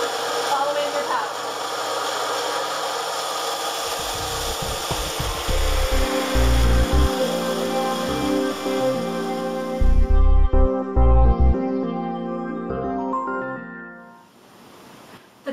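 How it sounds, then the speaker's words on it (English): A Precision 2000 wet band saw runs with its water supply on as material is pushed through the blade, giving a loud, steady motor whine with a shifting, grinding cutting tone that fades near the end. "Push the material through the blade, following your path."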